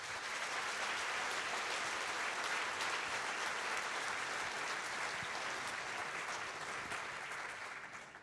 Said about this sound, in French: Je crois que là, ils méritent vos applaudissements